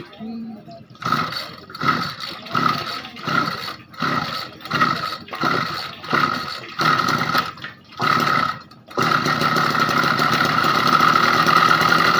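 An engine with a faulty bearing labours in loud, rhythmic chugging pulses, then settles into a continuous, rough, close running roar.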